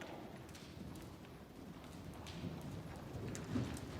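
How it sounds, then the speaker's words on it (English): A horse being worked into a gallop during barrel-jumping groundwork, its hoofbeats sounding as a faint, steady clip-clop of irregular thuds over low ambient noise. "See if you can get her into a little gallop."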